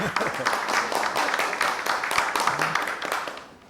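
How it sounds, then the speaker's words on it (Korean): An audience at a university conference applauds to welcome the National Assembly Speaker, with dense, sustained clapping that fades out at the end. "오늘 환영의 박수 여러 번 받습니다."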